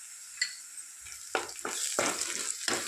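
Egg tomato curry being stirred and fried in a pan, with a soft sizzle under several sharp spoon scrapes and clinks that come close together, without talk.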